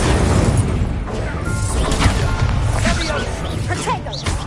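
Confringo and Incendio spells cast in a Hogwarts video game, bursting as fiery crashes and booms with whooshes and thuds, loud and dense, while a voice speaks over the effects.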